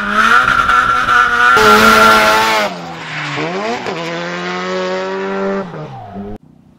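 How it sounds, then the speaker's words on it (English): A Nissan S14 drift car screams at high revs at Harris Hill south of Austin, its engine note rising and falling as tires squeal through a slide, loud and close with no talking before the engine cuts off. "We're gonna go drifting."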